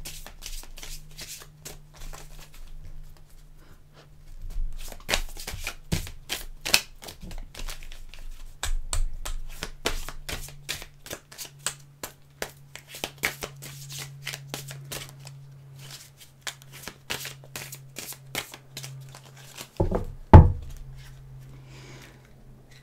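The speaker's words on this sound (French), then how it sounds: "On va faire la coupe avec l'oracle des miroirs." A deck of oracle cards being shuffled and cut, with long stretches of rapid riffling and fluttering card slaps up close, a few sharper snaps near the end, and a low steady hum underneath.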